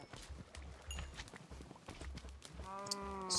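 Cows in Minecraft with hooves thudding on the ground, soft, irregular clopping steps up close, followed near the end by a drawn-out, tonal lowing moo.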